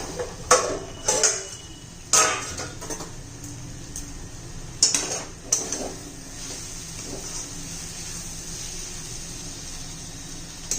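A utensil scraping and clinking in a pan while capsicum zunka cooks, a few short clattering strokes in quick bursts over a steady faint sizzle, with no talk.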